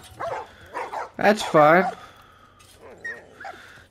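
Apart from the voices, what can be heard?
dogs barking and whimpering in video game The Last of Us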